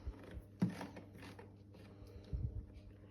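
A Thermomix whirs faintly as it heats and melts unsalted butter at 80 degrees on speed 2, a low mechanical hum broken by two soft knocking thuds.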